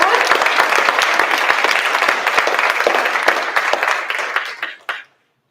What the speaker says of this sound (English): one more round of applause for Alexa